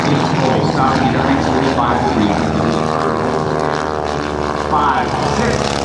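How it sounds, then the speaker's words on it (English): Loud, continuous drone of an aerobatic propeller plane's engine during a hammerhead stall turn at an air show, rising and falling in pitch, with an announcer talking over it. "There's the hammerhead stall turn, a very, very quick turnaround on the dot"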